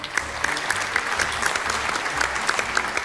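Audience applause on a cooking competition show, a dense steady clapping from a studio crowd that carries on evenly for a few seconds.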